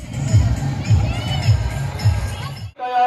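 A crowd at a Milad-un-Nabi procession in Rewa, India, fills the air with a loud, steady hubbub of voices, shouting and chanting, with rhythmic low pulses repeating about every half second before a brief cutoff.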